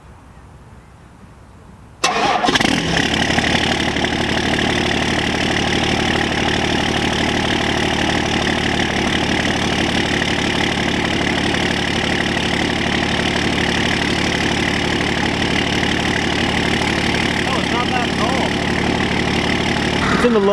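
On a cold day in the low 30s, a first-generation 12-valve Cummins diesel is started for the first time in three weeks. It catches after a quiet moment, then settles into a loud, steady, close idle rumble.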